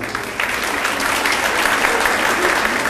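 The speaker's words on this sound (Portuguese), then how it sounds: "Vamos aplaudi-la agora?" Audience applause at a formal civic ceremony in a legislative chamber, a dense burst of clapping that swells after a brief quieter start and holds steady and loud.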